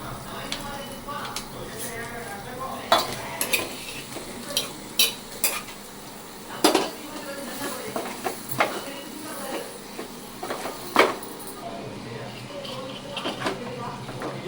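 Chicken pieces are stirred into a frying masala for a chicken curry, giving a soft sizzle beneath intermittent scrapes and clacks of a spoon against the pan, with a voice talking quietly in the background.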